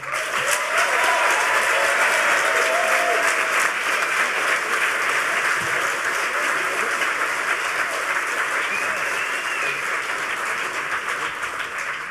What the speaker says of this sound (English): please everybody give a huge round of applause and a welcome for Emmanuel and the social engineering panel